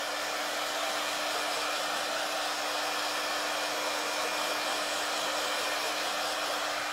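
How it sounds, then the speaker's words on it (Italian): A hair dryer blows steadily and loudly for the whole stretch, a dense continuous whoosh with a constant motor hum underneath and no talking. "Il phon che faceva meno rumore non ti piaceva, vero?"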